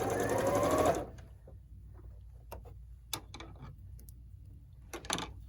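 A sewing machine stitches a quilt block for a schoolgirl sampler, running in a loud steady burst for about a second, then stopping, with scattered faint clicks and handling taps of the fabric afterward.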